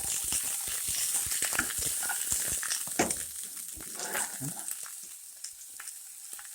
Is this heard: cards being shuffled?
no